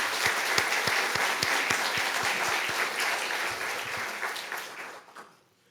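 A church congregation claps together in sustained applause during a service, steady and moderately distant, tapering off and fading out at the end.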